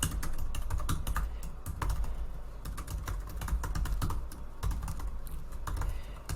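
Code being typed on a computer keyboard, a rapid, irregular patter of close key clicks with short pauses between bursts, fairly quiet and alone.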